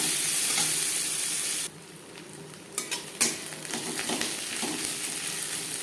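Three roughly chopped onions frying in the oil left after frying silver carp for a curry, a strong sizzle that briefly drops, then returns with sharp clinks and scrapes of a utensil stirring the pan.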